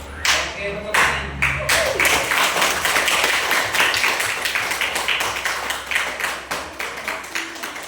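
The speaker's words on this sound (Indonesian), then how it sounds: "Oke, tepuk tangan." Students in a classroom clap together in a lively burst that settles into a steady rhythmic patter of many hands, close and fairly loud, fading gradually toward the end, with some voices mixed in.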